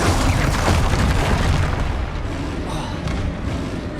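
Glacius ice spell cast in Hogwarts Legacy, heard as a heavy, dense booming burst that stays loud and sustained through the whole clip, with a slight dip midway.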